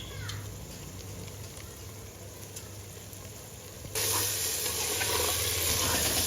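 Ground spices such as coriander, cumin and garam masala sizzle steadily in hot oil in a pan while tripe is being cooked, with a continuous frying hiss that swells louder partway through.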